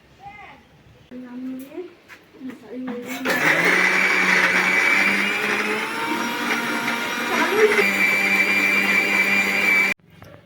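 An electric blender grinds spice paste for home cooking, starting with a sharp loud whir after a few seconds of quiet kitchen sounds and light talk, then running steadily at high speed before cutting off abruptly near the end.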